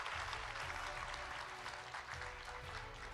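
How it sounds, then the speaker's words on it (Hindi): An audience applauding a guest at a televised conference session, dense sustained clapping from a crowd that fills the hall, steady and continuous, fairly distant. "जोरदार तालियां हो यहां पर"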